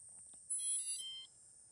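Drone sounding a short high electronic beep tone just before takeoff, a single brief chirp of under a second, faint against a quiet background.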